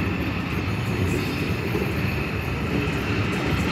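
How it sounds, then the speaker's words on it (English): Class 47 diesel locomotive running past on a charter train, a steady loud rumble with low-frequency engine drone and rail noise filling the whole stretch, close by and continuous. "And here comes the class 47."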